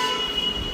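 A train at a Mumbai metro station gives off a steady metallic hum with high-pitched wheel squeal and a low rumble, close and continuous throughout.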